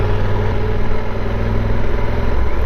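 Motorcycle engine on the move through city streets, a loud, steady low rumble with a rapid throbbing pulse that holds throughout, with no talk.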